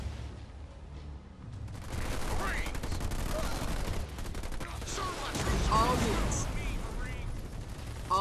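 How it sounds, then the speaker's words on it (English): Ground-troop gunfire crackles in Halo Wars 2 battle, sustained bursts of shots layered over rumbling explosions and game voice lines, growing denser and louder partway through. "Under fire from ground troops."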